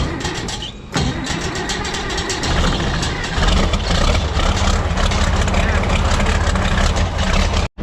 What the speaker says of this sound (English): This is the biggest tractor on the farm.